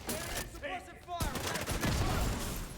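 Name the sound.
gunfire in the video game The Division 2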